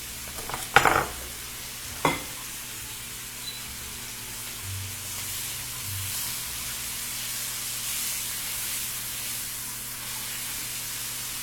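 Meat sears in foaming butter in a hot pan, a soft steady sizzle with a few sharp clanks and scrapes of the pan near the start.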